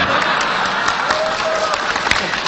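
A crowd applauds loudly and continuously, a dense wash of clapping that holds steady throughout.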